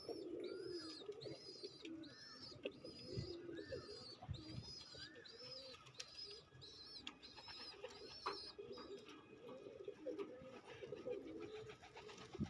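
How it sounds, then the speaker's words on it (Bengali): Several pigeons coo in steady, repeated phrases, fairly faint and distant, over a low background rumble with no talk. "দেখেন অনেকগুলাই যে কবুতর আছে।"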